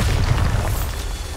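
A Bombarda blast spell in the Hogwarts Legacy video game lands as a loud, deep, rumbling boom that fills the moment, with no voices over it.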